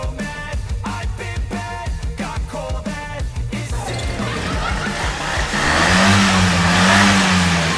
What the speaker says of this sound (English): So as you can see, the engine in our truck is now running fine.